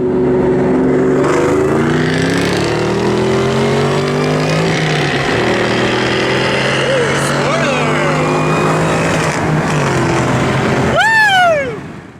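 A supercharged 2004 SVT Cobra Terminator races a supercharged 550 Jaguar. A loud, continuous engine roar holds throughout with layered rising and falling tones, and a sharp sweeping whine cuts in near the end.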